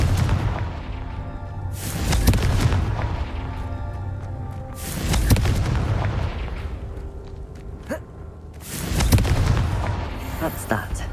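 Confringo blasting-spell explosions in Hogwarts Legacy: three heavy, booming blasts roughly three seconds apart, each with a sharp, loud burst that rolls off into rumble over a continuous game background.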